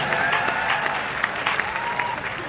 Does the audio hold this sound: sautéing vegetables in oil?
no